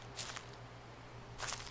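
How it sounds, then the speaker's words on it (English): Footsteps in the horror game Slender: The Eight Pages, two brief crunchy, rustling steps on ground, faint and spaced apart over a low droning background. "I hear the footsteps, but I'm not walking."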